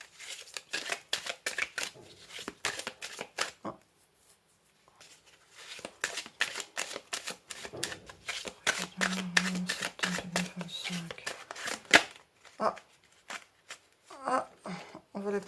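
Lenormand cards are shuffled by hand for a card reading, giving quick papery riffles and slaps in bursts, with a short pause midway and a voice murmuring briefly near the end.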